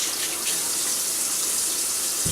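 Water running steadily from a kitchen tap into a sink while vegetables such as potatoes are washed, a constant close hiss and splash with no talk.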